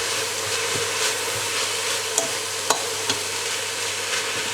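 Onions sweating in a pan for French onion soup, a continuous soft sizzle close by with a few faint clinks of a utensil, steady throughout without talk.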